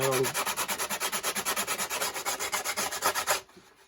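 Wood on an archtop guitar is sanded with a strip of belt sander abrasive in fast, even back-and-forth strokes, about twenty rhythmic rasps close up that stop abruptly near the end.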